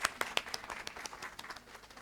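At a lecture, scattered audience applause sounds as a handful of distinct, faint claps in an uneven rhythm, thinning out over a couple of seconds.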